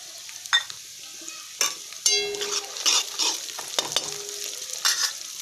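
Green peas stirred into onions frying in a pan for upma, with a steady close sizzle and repeated scraping stir strokes of a spoon against the pan, no talking.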